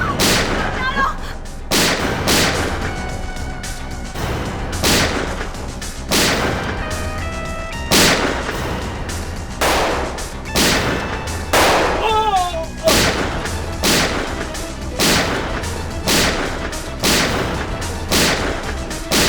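Gunfire in a Hindi TV crime drama scene: a long run of sharp, loud shots repeating every second or so over a music bed, with voices briefly heard between the bursts.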